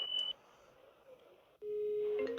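Electronic telephone beeps sound on a borrowed phone: a short tone, a quiet pause, then a longer steady tone with a couple of brief higher blips at the end, close and clear.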